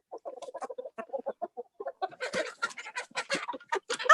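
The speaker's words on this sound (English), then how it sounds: "Heard from the chickens." Chickens cluck in a rapid series of short, close calls that grow louder and denser toward the end, heard alone without talk.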